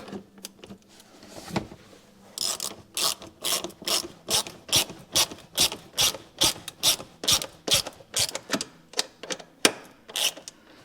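A ratchet tightens 8mm bolts during a salvage BMW X5 rebuild, producing close, crisp clicking in about twenty quick, evenly paced bursts with short gaps between strokes.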